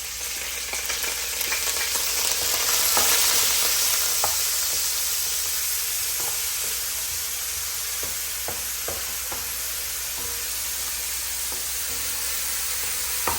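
Shredded onion hits hot cooking oil with cloves for Jamaican stewed chicken. A loud, steady frying hiss swells at first and then settles, broken by scattered stirring clicks and scrapes, with no voices.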